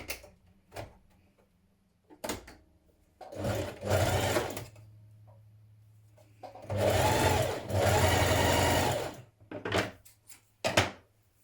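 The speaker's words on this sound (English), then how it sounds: "you're going to stitch down your back seam with a 3/8 of an inch seam allowance" A sewing machine stitches the back seam of a knit dress with a 3/8 inch seam allowance. It runs in two main bursts, each a few seconds long, with short taps and clicks of handling before, between and after.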